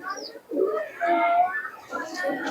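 Pakistani teddy pigeons let loose in a cage give soft, low cooing sounds that mix with nearby voices, fairly quiet and close.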